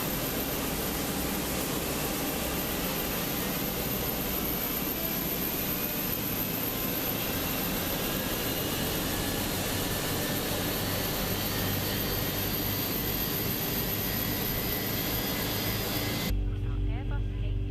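A Fenix A321 jet engine spools up in Microsoft Flight Simulator 2024, a steady loud roar and whine that rises gradually in the cockpit and then cuts off abruptly near the end.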